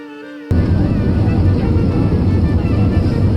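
Steady, loud cabin roar inside an Indigo airliner on final approach into Pune, a broadband engine and airflow rumble that starts abruptly and holds constant throughout.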